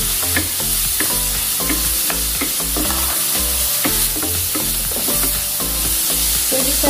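Garlic frying in a pan with stirring, a constant bright sizzle broken by repeated scraping and clinking strokes of a utensil, close and steady with no voices.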